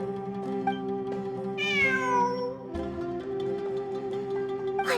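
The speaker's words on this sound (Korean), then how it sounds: "환청이 아니야. 진짜 고양이야." A cat meows clearly several times, one long rising-and-falling meow standing out near the middle, over a steady tonal background hum with no talking.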